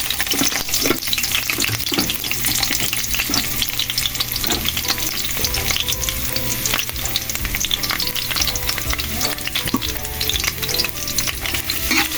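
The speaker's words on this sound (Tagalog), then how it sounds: "Yung gisahin ko muna yung ricado." Garlic and ginger sizzle and fry steadily in hot cooking oil, a dense continuous crackle with occasional stirring scrapes, close and fairly loud with no talking.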